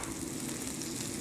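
Tomatoes sizzle in a hot pan with chili and onion, a steady, moderately loud frying hiss with soft crackles for a brief moment.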